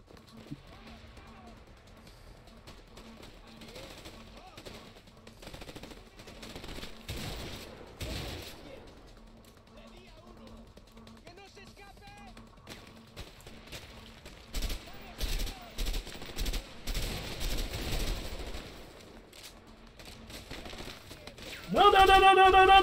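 Gunfire from a weapon in the video game A Way Out comes as bursts of rapid shots, quiet at first and then louder and denser toward the end, with background game noise throughout.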